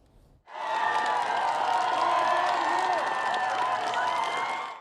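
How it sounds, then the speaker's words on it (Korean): Supporters cheering outside the National Assembly in Seoul as an independent lawmaker arrives: a sudden loud, sustained roar of crowd shouting and cheering with some clapping, continuing steadily for several seconds. "지지자들의 환호를 받으며"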